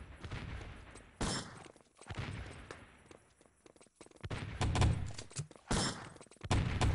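Artillery strikes in the tactical shooter Enemy Territory during a 6on6 LAN tournament match, a series of loud, heavy booming impacts in bursts with gaps between them, set against steady battlefield noise.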